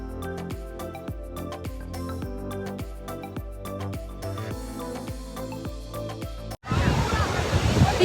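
Ocean waves wash ashore at Laxmanpur Beach on Neil Island, loud and close with a steady roar; the surf comes in only at the very end, after a stretch of rhythmic music.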